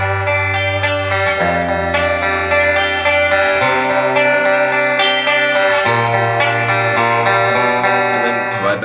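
Electric guitar playing the intro of a song at a slowed pace with modulation and reverb effects, ringing picked chords that shift every second or two, sustained and clear with no talking.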